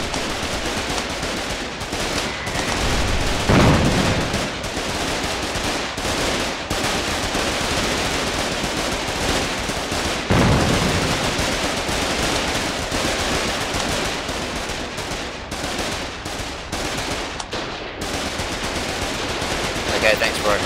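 Heavy machine gun fire in the war game Foxhole, loud sustained bursts of rapid rattling shots continuing throughout with brief pauses, mixed with other battle noise and occasional voices.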